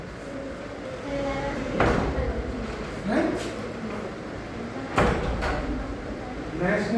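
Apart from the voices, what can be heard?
door opening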